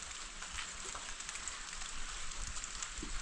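Light early-morning rain falls steadily with occasional louder drops tapping nearby against a soft, constant background hiss.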